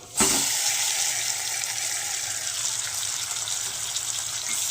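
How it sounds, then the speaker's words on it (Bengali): Marinated chicken tipped into a pan of frying onions, a sudden wet splash at the start giving way to a dense, continuous hiss and sizzle that holds steady and close to the end. "এবার এই পর্যায়ে আমি যে চিকেনটা ম্যারিনেট করে রেখেছিলাম সেই চিকেনগুলোকে এর মধ্যে ঢেলে দেবো।"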